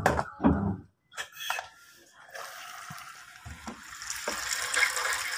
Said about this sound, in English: now water is refilling, so no more blinking